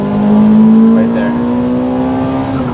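A tuned 2000 Toyota Celica GTS revs hard under acceleration, one loud, close engine note climbing steadily in pitch, with someone talking briefly over it.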